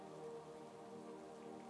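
Steady rainfall patters on a surface, a soft continuous wash with a faint sustained tonal hum underneath, with no voices.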